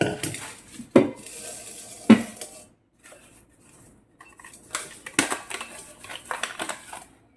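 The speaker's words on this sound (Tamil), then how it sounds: "நல்ல ஹெவி கடாய், நல்லா தூக்குறதுக்கு நல்லா ஸ்ட்ராங்காக இருக்குது." A heavy steel kadai from Indus Valley is lifted and set down, giving two sharp metallic clanks close by, then quieter scraping and rattling of the pan and its packaging.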